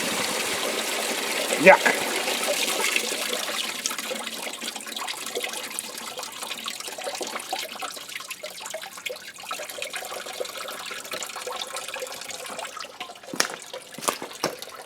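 Engine coolant pours from a car's drained cooling system into a bucket in a steady, continuous watery trickle with mid-level splashing, near and sustained, with a brief exclamation and a few clanks toward the end.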